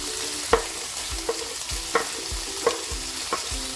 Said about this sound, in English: So now I'm going to add some tomatoes and onions.